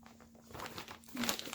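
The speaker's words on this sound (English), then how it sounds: "And put the plastic bag back where it belongs." Plastic bag crinkles and rustles softly at close range for a moment while being folded and put away.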